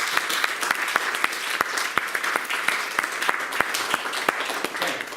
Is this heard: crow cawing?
no